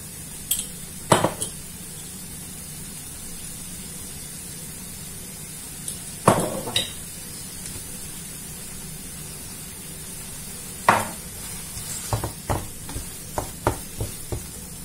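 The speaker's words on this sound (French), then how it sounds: "maintenant je vais continuer de touiller comme ça" Crumbled minced meat is stirred in a pan over a faint steady sizzle, with sparse sharp clinks of a utensil against the pan, a few isolated at first, then a quicker cluster toward the end.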